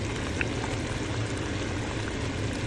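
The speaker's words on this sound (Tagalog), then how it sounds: "kumukulo-kulo na siya" A pot of soup bubbles at a steady simmer, a continuous low hiss and gurgle close by with no voices.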